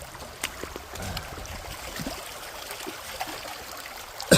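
Water running through a gold prospecting sluice box, a steady faint trickling and gurgling flow with a few small knocks and splashes throughout.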